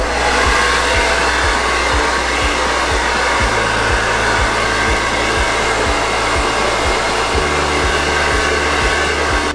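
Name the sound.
hair dryer on lowest setting warming chocolate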